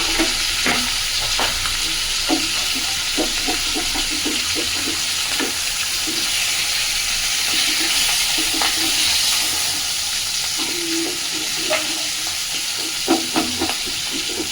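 Boal fish fries in hot oil in a pan, a steady close sizzle broken by frequent scraping and stirring clicks of a utensil, with no talking.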